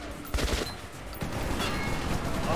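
An enemy machine gun fires in Metro 2033 Redux, a dense crackling burst of rapid shots that breaks off and resumes, loud and close with no speech.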